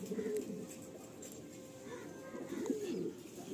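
Soft low cooing from a Chini Kaldom pigeon in a loft, steady and close, with faint background noise.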